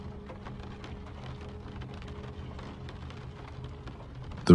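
Steady rain falling outside a cozy cat boarding house, a soft continuous patter with scattered drops, calm and unbroken, with a brief louder knock at the very end.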